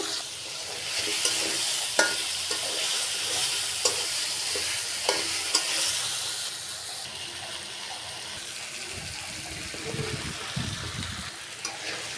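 Potatoes and vegetables fry and sizzle in oil while being stirred, with a steady hiss broken by clacking spoon scrapes and bumps against the pan.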